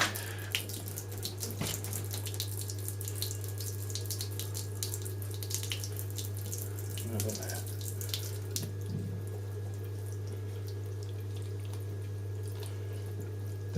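Water runs steadily from a tap, a continuous close hiss and patter over a constant low electrical hum, with a few faint bumps and no talking.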